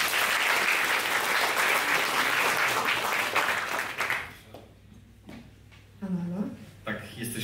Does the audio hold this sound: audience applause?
yes